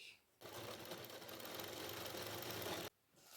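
A sewing machine runs one steady, continuous stitching burst of about two and a half seconds, sewing straight seams for pleats on a blouse, with short quiet gaps before and after.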